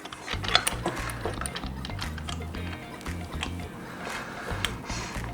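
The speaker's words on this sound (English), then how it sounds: "taking one of our longer bolts here, securing the side just like that. Grab our Allen key." An Allen key tightens a long bolt on the side panel of a 6x2x2 reptile enclosure, giving repeated close mechanical clicks and ratcheting ticks over a low thumping background.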